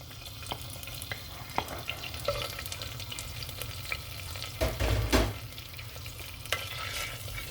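Finely chopped onion frying in hot oil in a pan, a soft steady sizzle punctuated by scraping stirs and a brief louder burst midway, close and alone without speech.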